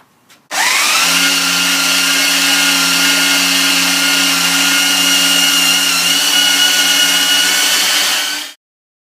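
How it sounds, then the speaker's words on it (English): A belt sander sanding the edges of a wooden router base, starting up abruptly and running at a loud, steady whine for about eight seconds before cutting off, with no talking. "I'm going to give the edges a quick sand with the old belt sander"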